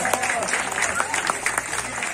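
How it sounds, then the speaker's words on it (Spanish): Crowd applause at a waltz dance celebration in El Carrizal, Chililico, Huejutla, Hidalgo, a dense bright patter of many hands with voices mixed in over it. "fuerte los aplausos."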